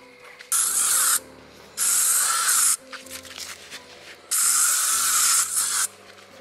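OFF insect repellent sprays in three close hissing bursts of about a second each at a campsite, separated by brief pauses with faint rustling between them.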